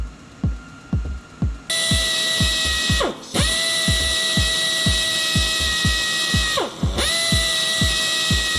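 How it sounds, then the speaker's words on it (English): Power drill drilling out an exhaust manifold bolt on a Cat engine, preceded by a few quick ratchet clicks, then a loud, close, high whine that briefly stops and restarts twice. "Guess we're drilling, huh?"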